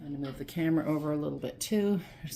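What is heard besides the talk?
None of the usual background noises is heard.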